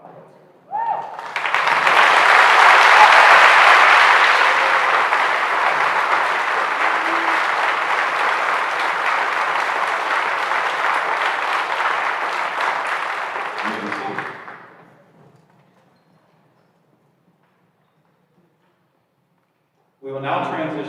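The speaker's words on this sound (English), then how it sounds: "one final round of applause" Students and families at a seniors' academic assembly applaud in a long, steady round of clapping that swells quickly, holds loud for about thirteen seconds, then fades to silence before a brief burst of room noise returns.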